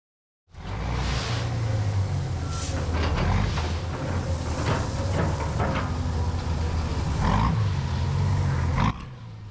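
Heavy truck working slowly over soft farm ground while tipping gravel on new roads near a small pond, a loud continuous low engine rumble with scraping and crunching bursts throughout, cutting off near the end.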